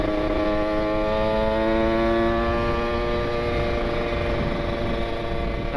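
Kawasaki Ninja RR two-stroke motorcycle with an R9 exhaust ridden on a busy morning road, a continuous buzzing engine note with rising and falling pitch as it revs close by.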